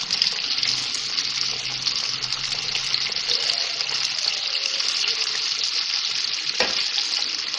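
Crumb-coated fish pieces frying in oil in a kadai over medium heat, a loud, dense, even hiss that runs the whole time with one brief knock near the end and no talk.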